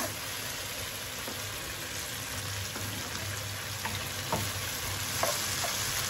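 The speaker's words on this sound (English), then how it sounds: "I'll have this fry a little bit longer while I add seasoning to that" Salt beef frying in a pan with onion, garlic, tomatoes and pepper, a steady dense sizzle with a low hum beneath and a few faint clinks, with no talk.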